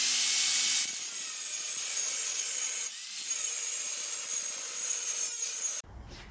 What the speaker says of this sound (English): So I'm gonna get the grinder out and then cut this.